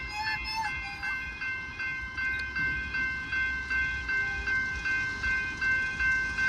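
A train rolls through a level crossing in Macleod, Victoria, with steady crossing bells ringing and a regular rhythmic clatter of wheels over rail joints, fairly close and continuous throughout.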